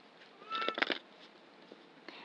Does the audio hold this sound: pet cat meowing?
yes